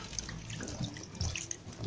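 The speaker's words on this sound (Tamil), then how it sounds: "உப்பு எல்லாத்தையும் வாஷ் பண்ணிவிடுங்க," Running tap water splashes steadily into a sink, with small clatters and knocks as salted, cut bitter gourd is rinsed under the stream.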